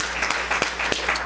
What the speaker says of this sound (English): Somebody clap one more time unto the Lord.